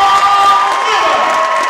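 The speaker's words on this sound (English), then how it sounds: "the crowd goes wild" A college wrestling crowd at a Maryland vs. American dual meet erupts after a pin, a loud sustained roar of cheers and shouts with a few whistles, filling the arena.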